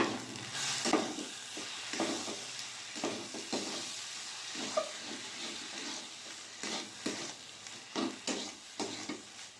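Cooked cabbage being mixed with a little garam masala and ghee in a pan, a series of spatula scrapes and stirs in uneven bursts over a low, soft sizzle, close and fairly quiet, with no talking.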